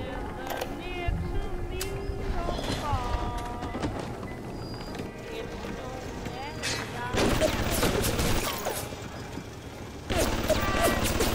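Gunfire rings out in the video game Bioshock in sharp, loud bursts that grow denser toward the end, mixed with game sounds and voices.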